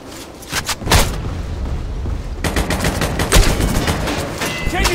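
Rapid bursts of automatic gunfire and heavy booming blasts in the shooter game Metro Conflict, loud and close, with short gaps between volleys.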